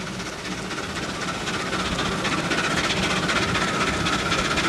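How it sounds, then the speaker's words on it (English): A steady engine on a prony brake runs at idle with no load, a continuous exhaust rumble and fine mechanical chatter, unchanging and fairly loud throughout. "You can hear a little exhaust."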